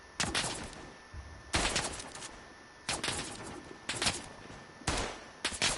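An enemy machine gunner fires in the WW1 game Tannenberg: five spaced bursts of sharp shots, each lasting about half a second, moderately distant and fairly quiet over a steady hiss of background ambience.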